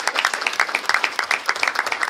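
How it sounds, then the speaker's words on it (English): An audience applauding the girls basketball team at a school district meeting, a dense burst of clapping throughout, fairly close and steady. "Let's give girls basketball a round of applause."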